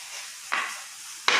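Smoothing the side of a betung bamboo piece by hand, two short rough scraping strokes with a steady hiss in between, close and moderately loud.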